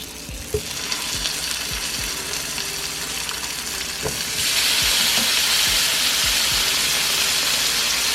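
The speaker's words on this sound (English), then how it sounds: "so we've taken some of this grease out of here. You can still hear it popping." Grease pops and crackles steadily in a pan of frying pork chops, with scattered sharp spits over a continuous sizzle that grows louder and hissier partway through; no one speaks.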